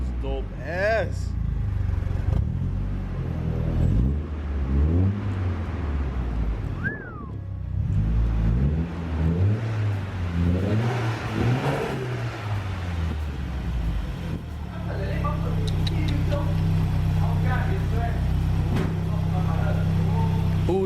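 A car with a Nissan CA18 engine idles and revs after its first startup in a while, rising and falling engine notes up close, loud and continuous, with people talking over parts of it.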